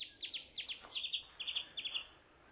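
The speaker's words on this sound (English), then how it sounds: "I'm talking over these stupid birds coming out of this projector above my head." Recorded birdsong played from a golf simulator projector overhead indoors: a rapid series of short, high chirps and tweets in quick bursts, fairly faint and heard alone.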